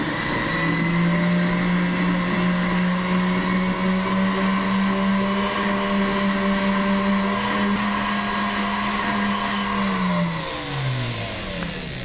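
A handheld rotary power tool polishing metal jewelry gives a steady, close, high motor whine that holds its pitch for about ten seconds and then drops as it slows near the end.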